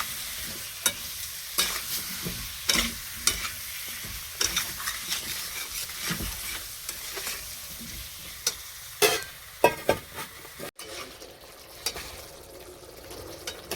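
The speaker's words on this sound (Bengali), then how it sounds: "আলুটার সাথেই ভেজে নেব মশলার সাথে" Potato pieces fry with spices in a pan, a soft sizzle under repeated sharp spatula scrapes and taps at a steady rhythm, close and moderately loud, no talking.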